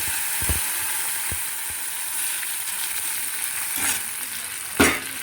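Spices fry in a pan for Bengali-style chana dal, giving a steady close sizzle with a few sharp stirring scrapes and clicks, including one louder scrape near the end. No one speaks.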